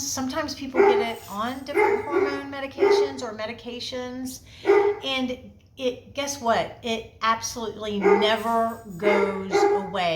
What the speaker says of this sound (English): you're just going to have to deal with my dog barking in the background